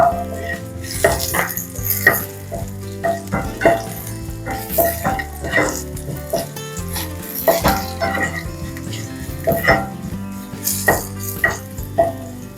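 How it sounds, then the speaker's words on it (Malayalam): Garlic frying in hot oil for chena upperi, a loud steady sizzle with repeated clinks and scrapes of a stirring spoon against the pan, close up and without any speech. "വെളുത്തുള്ളി നന്നായിട്ടൊന്ന് മുരിഞ്ഞിട്ടുണ്ട്."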